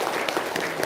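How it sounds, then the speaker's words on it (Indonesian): Brief burst of audience applause for a Kiai at an Islamic religious talk, dense steady clapping throughout with no voices over it. "Tepuk tangan dulu dong buat Pak Kiai"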